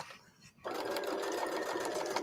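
A sewing machine stitches a fabric coaster, starting after a brief quiet moment and then running in a steady, fast, close motor whir with continuous needle chatter.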